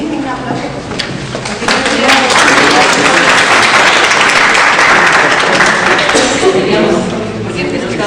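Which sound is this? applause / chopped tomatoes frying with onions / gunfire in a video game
applause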